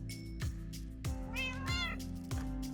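Cats in the Minecraft video game meow several times in quick succession, clear and close, with short, bright, repeated calls that overlap one another.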